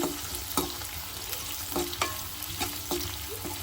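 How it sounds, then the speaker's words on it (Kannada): Chopped onions and curry leaves fry in oil for crab curry, a soft continuous sizzle broken by light scraping stirs at a gentle rhythm, fairly quiet and close. "ಇವಾಗ ಹಚ್ಚಿರೋಂಥ ಒಂದು ಈರುಳ್ಳಿನ ಹಾಕೊಂಡು ಚೆನ್ನಾಗಿ ಫ್ರೈ ಮಾಡ್ಕೋಬೇಕು"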